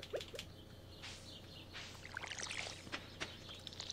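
Watering can pouring over crops in the farming game Stardew Valley, a few soft splashy water bursts alongside chirping bird calls, all quiet and close.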